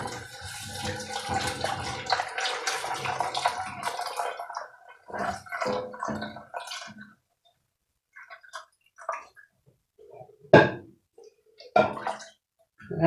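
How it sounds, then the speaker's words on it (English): Milk being poured into a cooked flour roux for sausage gravy, a steady wet gurgling pour for the first seven seconds, followed by scattered splashes and sharp clinks of a utensil against the pan. "Now I'm going to go ahead and add my milk."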